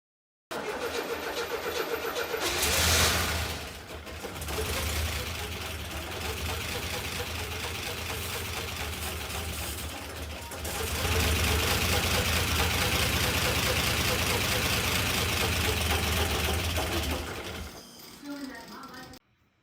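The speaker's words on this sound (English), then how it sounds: "now with this engine running off of carburetor clean without spraying down the intake" A 1984 Buick Grand National engine runs on carburetor cleaner, a loud, steady mechanical drone with rapid ticking and surges in level, briefly dipping near the start and fading at the end.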